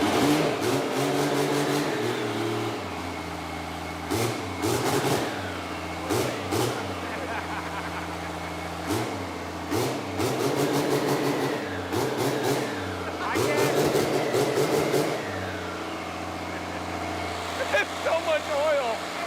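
A diesel-swapped Ford Torino wagon drag car of about 800 horsepower revs repeatedly, its engine surging in loud bursts and settling back to idle, with people talking nearby between blips.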